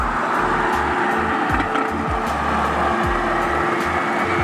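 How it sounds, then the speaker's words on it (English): A loud twin-turbo Audi R8 roars past on a straight with shifting, revving tones and a steady rushing hum, continuous throughout with no talking. "it's a twin turbo car. What? You can hear the turbos."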